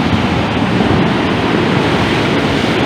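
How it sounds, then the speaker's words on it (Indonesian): Big ocean waves roar onto the beach at Pantai Sungai Suci in Bengkulu Tengah, Indonesia, as a loud, continuous surf rumble with wind buffeting the microphone throughout. "deru ombak yang begitu besar"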